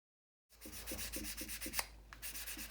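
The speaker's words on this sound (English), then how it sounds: "I'm just letting the sandpaper do the work." Sandpaper rubs lightly over a 1/48 scale PB4Y-2 Privateer model plane in quick, rhythmic back-and-forth strokes, close and soft, starting after a brief silence with a couple of small knocks.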